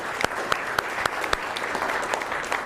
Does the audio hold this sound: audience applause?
yes